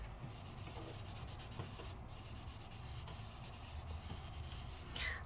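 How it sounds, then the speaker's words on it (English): A Finetec pigment crayon is rubbed onto paper in a continuous, close, soft scratchy friction that stays steady and quiet throughout, with no talking. "And then I just kind of rub it on."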